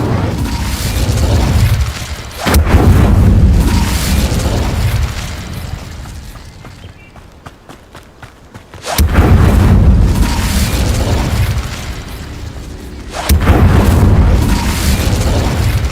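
Spell blasts from the Incendio fire charm in Hogwarts Legacy: loud, deep booming bursts with roaring fiery noise that swell, fade into quieter rumbling, then strike again in repeated waves.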